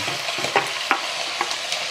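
Meat frying in a pan over high heat, a steady near sizzle with a few sharper pops and spatters and no talking.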